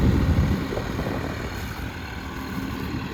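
A Massey Ferguson 255 tractor engine drones steadily while plowing a field, a continuous low rumble with wind noise against the microphone and a slight swell at the start.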